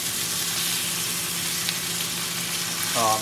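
A steak frying in a pan under a splatter guard gives a continuous, even sizzle, close and steady, with a brief faint voice near the end.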